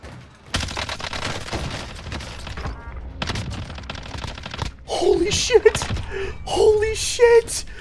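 Automatic gunfire rattles through a Call of Duty match, long sustained bursts up close, with players talking over the shooting in the second half.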